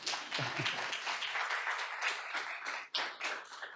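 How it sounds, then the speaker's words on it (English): Conference summit audience claps continuously, a dense, fairly close crowd of hands with a brief dip near the end before resuming. "oh, you can clap."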